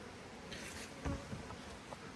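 Honey bees buzzing around a nucleus hive while being fed sugar syrup, a faint, steady insect hum with a few closer buzzing passes.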